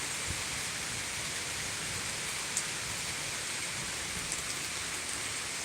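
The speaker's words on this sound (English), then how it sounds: "Today, Sunday, it's pouring down the rain" Heavy rain pouring down at Thurmond, West Virginia, a dense, even hiss of falling water on surfaces that is steady throughout, with a few faint knocks.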